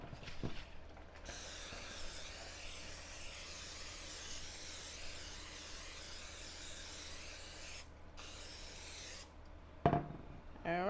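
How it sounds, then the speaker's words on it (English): A continuous hissing of butter-flavored cooking spray into a pan runs for several seconds, briefly pausing, then resumes, followed by a clatter. "I'm going to use my butter flavored spray, and I'm going to spray the bottom of the pan"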